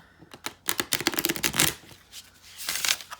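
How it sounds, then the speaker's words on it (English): A tarot card deck is riffle shuffled up close, a rapid flurry of crisp flicking clicks building to a burst, then a second shorter riffle after a brief pause. "I don't think I can riffle shuffle it."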